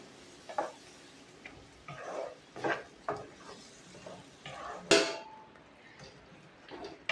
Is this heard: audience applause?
no